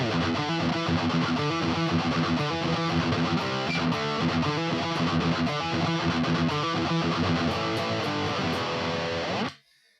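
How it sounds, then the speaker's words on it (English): A thick, chugging distorted electric guitar through a Bogner Ubershall amp sound plays a tight rhythmic riff, loud and dense, then cuts off abruptly at the end. "the first sound that I'm going to show you is a distortion sound for the rhythm guitar"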